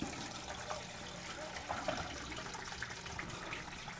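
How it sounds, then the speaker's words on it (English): Hot sauce brine poured off through a colander into a bowl: a steady, splashing rush of liquid running continuously and close by, with gurgles and trickles throughout. "pour off the brine, but we're gonna keep it"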